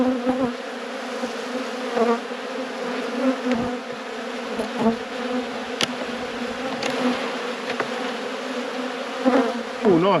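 Honey bees buzz thickly around an open hive during an autumn inspection, a dense, close, continuous drone with individual bees zipping past the microphone.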